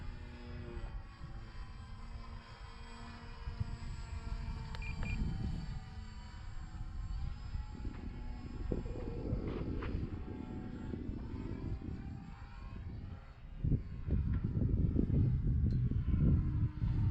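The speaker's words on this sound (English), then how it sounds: "Nice flying airplane." A balsa Dancing Wings Hobby Stick 14 model airplane flies overhead, its small engine a thin, droning whine that rises and falls as it passes, with outdoor wind noise underneath.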